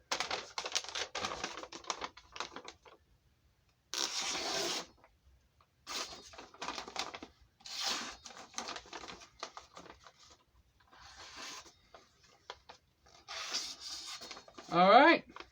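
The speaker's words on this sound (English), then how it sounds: "Well, it cut paper." A new weed slayer knife blade slices through paper in repeated bursts of crisp rasping and tearing, close and fairly loud, with short gaps between strokes.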